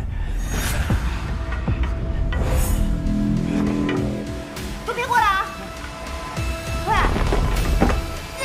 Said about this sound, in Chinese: 来人呐，下雨了！